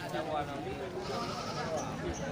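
Ram sheep bleating at a busy Indonesian livestock market, faint and mixed into constant crowd chatter and background noise, with someone talking over the scene throughout.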